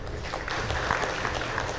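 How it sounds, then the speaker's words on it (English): A conference hall audience applauds after a logistics talk, a steady dense wash of clapping lasting under two seconds. "Can we have a loud applause,"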